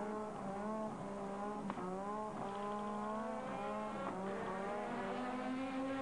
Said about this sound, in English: A lot of spinning wheel now